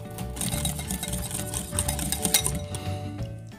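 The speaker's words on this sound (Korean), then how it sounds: "밀가루 넣었으면 바로 휘스크를 이용해서 휘저어주고요" A whisk stirring flour into very hot water in a bowl to make tangzhong, a rapid metallic clinking and scraping with a steady rhythm, close and fairly quiet.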